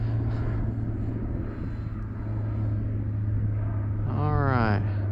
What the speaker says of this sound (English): A big old C-130 getting ready to go over our heads right now